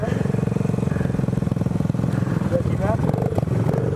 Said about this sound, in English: His bike won't even barely run.